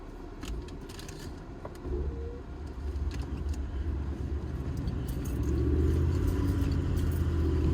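A 4WD Toyota Troop Carrier climbs a steep hill in second gear, its engine a low, steady rumble that grows louder and heavier toward the end, with some clattering from the cabin.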